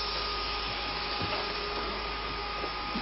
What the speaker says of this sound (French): c'est un ventilateur électrique qui sert à aérer les chantiers